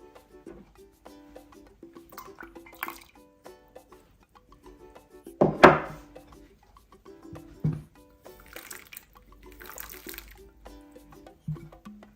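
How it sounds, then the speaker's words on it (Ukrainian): Fresh berries and fruit dropped into cold water in a cooking pot for compote, heard as soft splashes and liquid sloshing, with one louder plop midway among quieter kitchen handling sounds. "ягоди та фрукти треба покласти в холодну воду."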